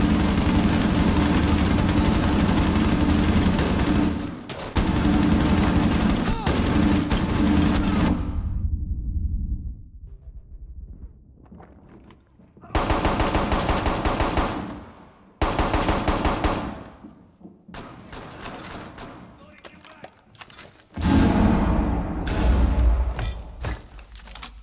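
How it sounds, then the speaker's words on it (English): Continuous automatic gunfire and explosions in a video game destruction scene, loud sustained bursts that cut out abruptly, pause, then resume in several separate volleys with thuds and shattering between. "Just keep shooting. Just keep shooting."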